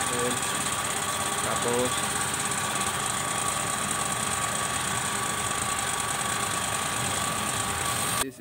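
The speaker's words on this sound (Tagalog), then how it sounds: "medyo maingay kasi umaandar yung compressor natin" An air compressor runs steadily and loudly nearby during a multicab van rear engine overhaul, a constant droning hum with a brief word spoken over it.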